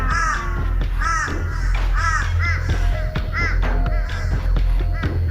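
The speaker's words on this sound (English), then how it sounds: "the cawing of the crow is far more than just incessant noise" An urban crow caws in a series of harsh, repeated calls, roughly one every second, loud and close over a low steady background rumble.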